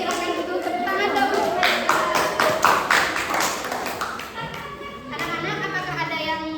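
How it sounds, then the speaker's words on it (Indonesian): Schoolchildren in a classroom clap their hands together, a steady patter of applause mixed with children's voices and chatter throughout. "Oke, terima kasih Nana dan Ifti, silahkan duduk, tepuk tangan dong."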